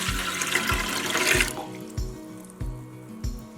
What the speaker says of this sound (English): Into our bowl, we're going to add 3 cups of warm water.